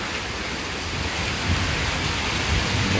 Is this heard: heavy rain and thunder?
yes